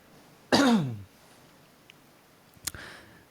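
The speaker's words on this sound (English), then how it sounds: "Excuse me one moment while I cough." A single harsh throat-clearing cough bursts out up close near the start, followed by quiet room tone and a faint click and brief sound near the end.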